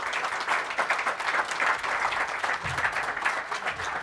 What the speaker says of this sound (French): je vous invite bien sûr à applaudir chaleureusement et à les inviter à monter sur scène